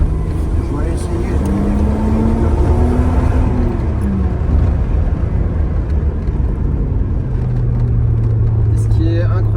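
A turbocharged 2.7-litre Alpine Le Mans engine rumbles loudly and continuously up close, its pitch rising and falling as the revs change, with voices talking over it.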